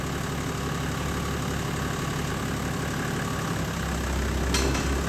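An 80 Series Land Cruiser engine runs steadily with all four wheels spinning, a close, even, rumbling drone that holds throughout and swells slightly near the end.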